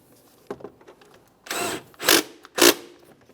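A mounting bolt is started and snugged on the knock sensor bracket of a 2014–2018 Mazda 3 2.0L four-cylinder, heard as a few faint clicks followed by three short, close bursts of a ratcheting or power driver, with no talk.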